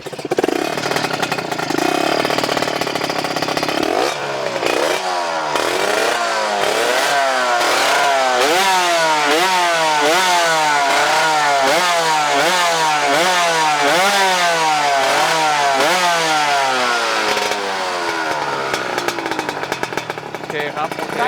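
A Honda Dash motorcycle engine revs hard again and again, rising and falling in quick repeated bursts at close range, a loud buzzy two-stroke whine over a steady idle, with people talking underneath.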